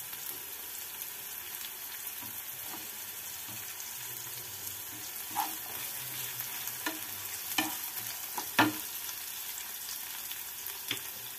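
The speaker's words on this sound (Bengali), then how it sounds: "ভালো করে ভাজা ভাজা করে নেব" Ginger, capsicum and spring onion stir-fry in a pan for cauliflower manchurian, a steady soft sizzle broken by a few sharper scrapes and clinks of the spatula toward the end, with no talking.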